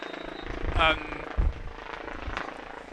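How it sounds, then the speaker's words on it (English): A helicopter passes overhead at an outdoor American football game between East Kilbride Pirates and Tamworth Phoenix, a low steady rotor drone beneath crowd noise and commentary, with brief louder bumps. "We have a helicopter overhead right now."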